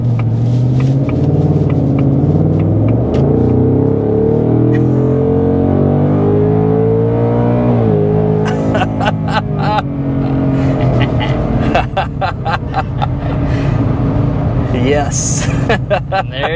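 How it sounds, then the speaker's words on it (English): A 2024 Ford Mustang Dark Horse V8, 500 hp, revs loudly with a deep, rumbling roar, its pitch rising and falling across repeated throttle blips. "There's the sound of American muscle right there."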